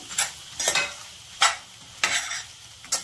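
Taro root chunks frying in hot oil are stirred with a spoon in a pan, giving five distinct scraping, sizzling bursts spaced across a few seconds, close and fairly loud, with a soft crackle between strokes and no talking.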